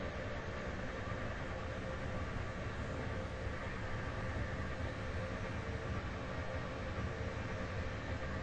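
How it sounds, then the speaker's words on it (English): A train in the Roblox game rolls along with a continuous, even rumble and rushing noise, fairly quiet and steady throughout, with no voices. "The train now approaching platform 2 does not stop here."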